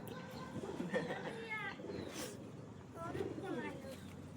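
Soft, low coos from kept pigeons repeat a few times nearby, mixed with voices talking in the background.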